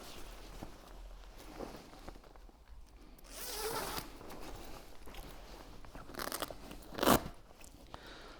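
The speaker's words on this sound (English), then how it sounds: "The connecting canopy is very easy to zip on." A connecting canopy is zipped onto a campervan's inflatable drive-away air awning, giving a couple of short ragged zip runs near the mic, the loudest and sharpest toward the end, with quiet rustling between and no talk.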